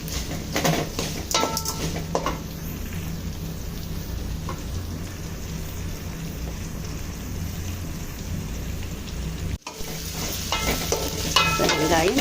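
Onion, garlic and tamarind sauté in a pan for a South Indian onion thokku, giving a steady, dense sizzle and crackle throughout, with a few louder stirring scrapes near the start and end.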